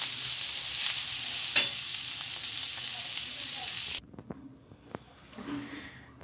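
Broad bean pods sizzling in a pan while fresh coriander is stirred in, giving a steady hiss and a sharp utensil knock, then the sizzle drops away to quieter scraping and clinks.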